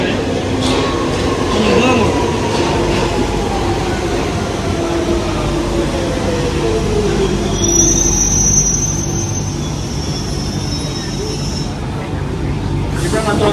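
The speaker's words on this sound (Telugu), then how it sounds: "ట్రైన్ వస్తుంది" A train pulling into a station in London, a loud steady rumble with long falling wheel squeals and metallic screeching, plus a high hiss near the middle as it slows.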